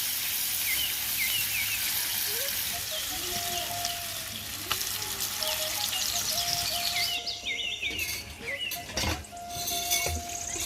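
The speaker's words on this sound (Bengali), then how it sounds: "মাছটা ভালো করে মেখে এখন সুন্দর করে একটু টানা টানা করে ভাজি করে নিব" Spiced foli fish, rubbed with salt, chili powder and turmeric, fries in a pan with a loud, steady hiss and crackle that fills the whole stretch, close by, with a few clatters and knocks near the end.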